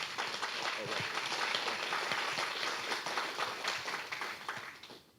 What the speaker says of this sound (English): Big round of applause for our last one of the night.